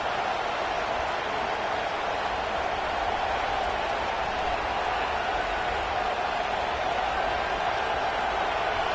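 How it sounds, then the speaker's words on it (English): A dense football stadium crowd keeps up a steady, loud roar of cheering and noise that fills the air evenly with no pauses. "This crowd ready to make its presence known."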